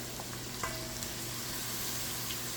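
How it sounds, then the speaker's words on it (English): Green and red peppers with onion sauté in a pot, giving a steady, close sizzle of frying with a few soft stirring clicks and no talk. "we're going to saute that for 5 minutes"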